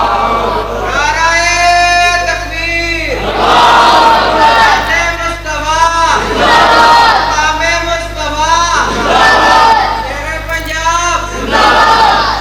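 A crowd at a religious speech chants slogans together in loud, repeated call-and-response waves, each swell of voices lasting a couple of seconds and then dropping before the next.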